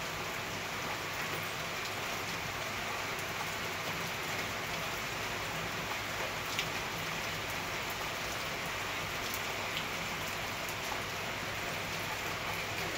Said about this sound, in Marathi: सकाळ सकाळ पाऊस चालू झाला